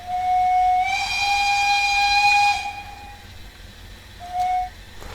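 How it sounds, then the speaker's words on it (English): A Saxon IV-K 0-4-4-0T steam locomotive whistle in Train Simulator Classic sounds one long, loud, steady blast, then a short softer toot a moment later, with no voices. "Pretty good sounding whistle."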